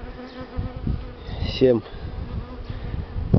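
Buckfast honey bees swarm around an open hive during an early spring inspection, a steady dense buzz close to the microphone with one louder bee passing nearby, while a voice briefly speaks over it.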